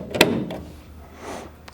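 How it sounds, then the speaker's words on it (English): The door of an HP DesignJet XL 3800 printer closes after a cartridge is slid into the tray, giving a sharp close thud followed by a softer sliding rattle and a faint final click. "and then close the door."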